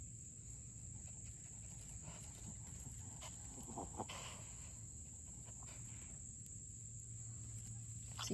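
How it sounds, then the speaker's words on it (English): A cicada in a forest setting gives a steady, high-pitched insect drone that runs unbroken and fairly faint throughout, with soft rustling and low background noise beneath it. "Can you not knock the cicada off?"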